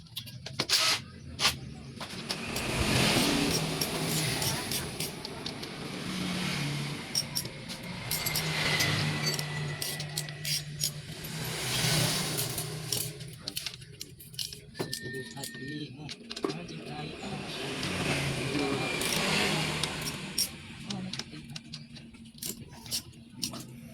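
Honda Karisma motorcycle engine, just reassembled after repair for hard cold starting, runs at a steady idle with a continuous mechanical clatter, close by, under occasional talk.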